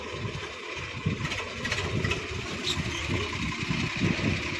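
A tractor engine runs steadily at idle on a farm with a low, throbbing rumble, mid-pitched, and no voices.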